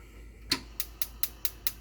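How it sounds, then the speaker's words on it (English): A gas stove burner on a kitchen stovetop ignites with a sharp igniter click, followed by a steady train of about five more evenly spaced, crisp ticks, fairly close and alone. "Okay, we got the burner going."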